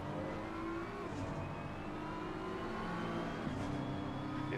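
A GT race car in Assetto Corsa Competizione at Suzuka circuit drones along at steady speed, its engine pitch dipping and rising as it slows and picks up again, fairly quiet and continuous.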